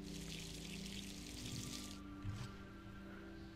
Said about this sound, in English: And then we're going to water it again.